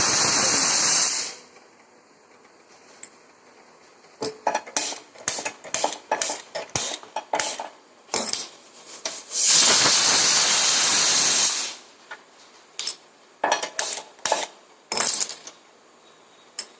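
Loud sizzling hiss bursts up as water hits a hot pan of tempered spices and oil, fading, then a second strong sizzle, with clinks and scrapes of utensils between.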